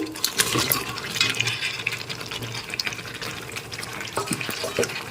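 Chicken is stirred into a thick chilli chicken sauce in a pan, giving soft scraping and wet sloshing with faint sizzling, close and moderately quiet, in irregular bursts throughout.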